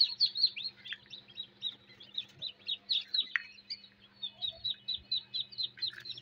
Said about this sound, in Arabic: في كتاكيت لسه بتطلع يا حبايبي